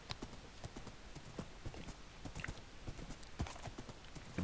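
Horse hooves clip-clop steadily in the voxel game Gregtech New Horizons, a busy run of close, even footfalls with an occasional snort, nearly continuous across the moment.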